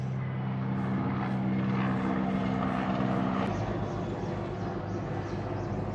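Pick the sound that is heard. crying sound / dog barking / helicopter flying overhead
helicopter flying overhead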